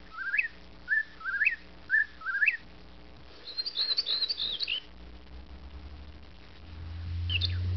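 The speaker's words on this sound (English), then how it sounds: "They actually sound like the same whippoorwill." Whippoorwill calls in the Magic School Bus Animals video game: four short rising whistled phrases in a regular rhythm, followed by a higher twittering burst, clear and fairly close over a low hum, with a faint rumble at the end.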